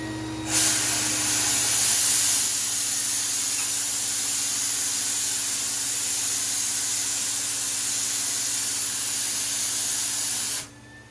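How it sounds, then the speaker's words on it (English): An HVLP paint sprayer coats banister spindles, giving a steady, loud hiss of atomized spray that starts abruptly, holds evenly for about ten seconds and then cuts off, with no talking. "how little material may be coming out of your sprayer, let me show you"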